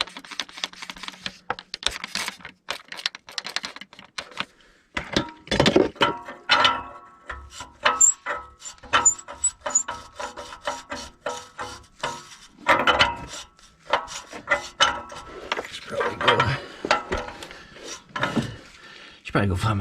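A wrench works a rusty O2 sensor back and forth on a '93 Chevy K3500 454, producing irregular metallic clicks and ratcheting scrapes in short bursts separated by brief pauses.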